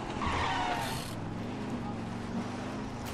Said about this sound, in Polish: ten samochód jest stary, ale daje radę sobie